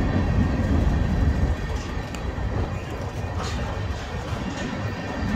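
A BNSF EMD SD40-2 locomotive shoves a switching train back in reverse in Galesburg, Illinois, giving a steady low engine rumble and rolling rail noise at moderate distance.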